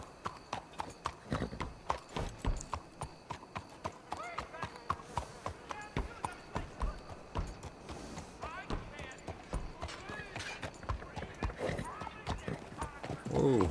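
Horse hooves clip-clop in a steady walking rhythm on hard ground in a GoldRush RP role-play game, fairly close and continuous, with a few brief knocks and a louder thump at the end.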